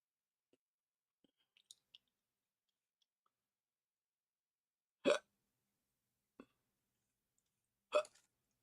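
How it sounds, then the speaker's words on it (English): Hiccups sound out, three distinct sharp catches spaced a few seconds apart, quiet and close, with faint small clicks and mouth noises between them. "I get the hiccups."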